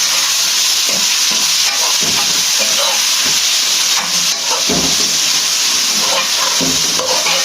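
Finely chopped green chillies and tomatoes hiss loudly in a hot pan while a spoon stirs them, a dense continuous sizzle with irregular scraping knocks throughout.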